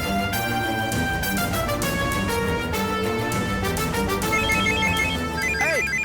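A mobile phone rings from inside someone's pocket, a loud continuous melodic ringtone playing nearby without pause.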